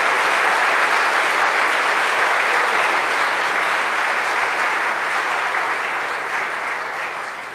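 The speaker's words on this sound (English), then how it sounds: "We might just give all our Year 12 graduates one more round of applause." Audience at a Year 12 graduation Mass applauds the graduates, a dense, sustained burst of clapping that fills the room evenly and tapers slightly at the end, with no speech over it.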